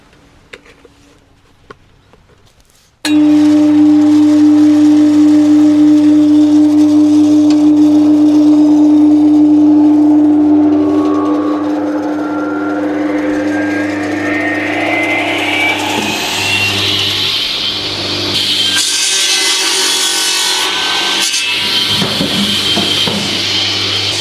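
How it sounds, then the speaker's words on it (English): A loud firewood-cutting machine runs steadily in a salt mine, starting abruptly after a quiet moment and droning on with a constant low hum while the sawing pitch rises and shifts as the wood is cut. "this machine is real loud, and when standing here operating it, it throws so much sawdust my way"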